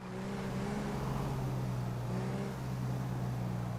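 A car in GTA V passes by on a city street: a steady, droning engine hum with a faint rise in pitch, moderately close and continuous for several seconds, with no talking.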